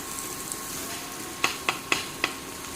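A chopped ingredient hits hot oil in a home kitchen, giving a soft, even sizzle broken by four sharp taps of a utensil against the pan, close with no voices.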